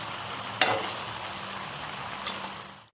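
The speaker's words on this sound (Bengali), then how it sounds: "মাঝে মাঝে ঢাকাটা সরিয়ে আমি তরকারিটা নেড়ে দেবো" A vegetable curry sizzles softly in a pan while a spoon stirs it, with a couple of sharp scraping clinks against the pan over a steady low frying hiss that cuts off at the end.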